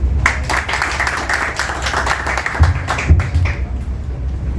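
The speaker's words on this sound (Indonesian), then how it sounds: "Kita beri tepuk tangan." Audience applause welcoming a speaker at an environmental policy talk, a crowd clapping steadily for a few seconds, fairly loud, then thinning out with a few heavier thumps near the end.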